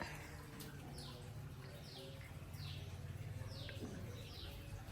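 Birds chirp and call from a tamarind tree on a sunny morning after overnight rain, short repeated tweets standing out over a steady low hum of outdoor background noise.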